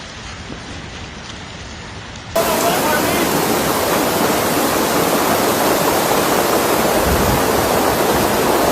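Quiet background noise gives way abruptly to a loud, steady roar of rushing floodwater in Portugal that continues unbroken.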